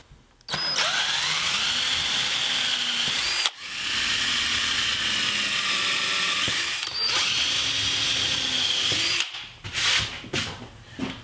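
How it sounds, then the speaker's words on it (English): A power drill whines steadily in three long runs, biting through plywood with a grinding hum, separated by brief pauses. "I'm just going to drill through the piece of plywood"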